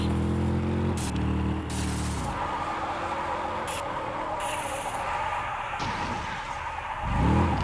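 Dodge Challenger SRT8 drifting, with continuous engine roar and tire skidding noise, revving up and down over several seconds.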